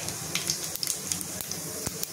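Mustard seeds and cumin sizzling in hot oil for chole masala: a steady soft frying hiss with scattered small pops and crackles throughout, close and fairly quiet, no voices.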